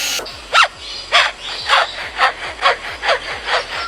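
A lyrebird imitates a handsaw, producing a steady series of about eight rasping back-and-forth strokes at an even rhythm, close and clear with no speech.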